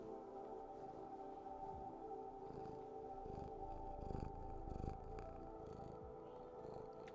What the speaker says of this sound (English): You want to purr for the people?